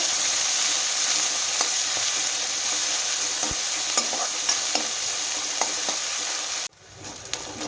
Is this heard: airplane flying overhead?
no